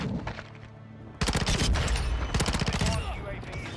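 Rapid automatic bursts from a P90 submachine gun in Modern Warfare 2, loud and close, firing in quick rattling strings after a brief lull, with some talk underneath.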